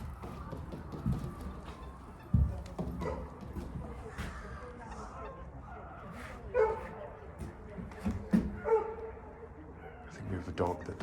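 A dog barks in short, scattered bursts at seagulls and swans on winter water during an outdoor walk. The barks are moderately distant, and fainter bird calls mix in over a quiet outdoor background.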